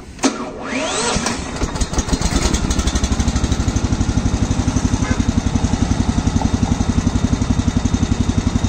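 A Swaraj Code mini farm cultivator engine cranks and fires up loudly nearby, then settles into a fast, even idle with a regular chugging pulse. No voices are heard.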